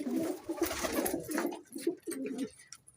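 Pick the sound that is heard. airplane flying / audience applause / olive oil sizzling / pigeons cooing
pigeons cooing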